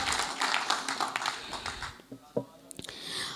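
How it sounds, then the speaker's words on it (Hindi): Audience clapping at an All India Mushaira poetry gathering, with fairly quiet, patchy claps for the first couple of seconds that die away into scattered taps and talk. "एक बार भाई अंजर के लिए और अकमल के लिए जोरदार तालियां बजा दीजिए"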